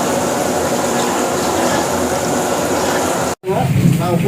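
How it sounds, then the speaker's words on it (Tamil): About half a litre of water poured into a pot of frying rice for sweet mutanjan rice gives a loud, steady rushing hiss, then a brief break and a bubbling simmer. "இப்போ கொஞ்சம் தண்ணி ஊற்றிக்கலாம். ஒரு 1/2 லிட்டர் அளவு தண்ணி."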